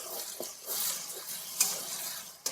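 Thick frying masala for a moong dal dish gets stirred in a pan that was kept covered, with a soft steady sizzle under faint scraping and a few light clicks of the spoon.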